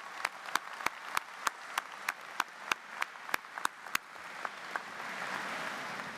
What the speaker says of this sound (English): A round of applause, yes.